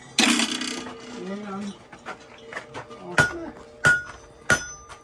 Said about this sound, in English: Okay, so I'm just going to take a hammer.